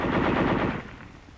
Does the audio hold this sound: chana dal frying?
no